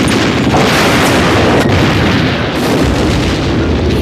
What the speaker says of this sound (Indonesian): Serangan pertama itu dilakukan oleh para tentara Jerman dengan menghujani tembakan senjata artileri ke area medan pertempuran.